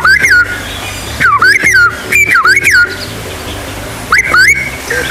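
Someone whistles a bird-like call, rising and falling sweeps repeated in short bursts with pauses, close and fairly loud, mimicking a laughingthrush song.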